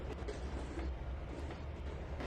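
Grain train cars roll along the track in the Trainz 2022 railway simulation game, giving a steady, close rumble with faint clattering wheel noise throughout.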